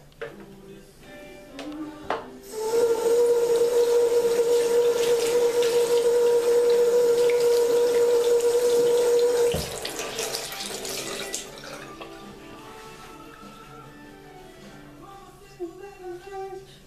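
Tap water runs steadily from a faucet into a sink while a face mask is rinsed off, a loud continuous rush lasting several seconds before easing to a quieter flow.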